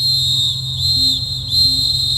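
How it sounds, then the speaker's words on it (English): A high, steady whistle sounds in long sustained blasts, separated by brief dips, over a low rumbling background. "When the return whistle came,"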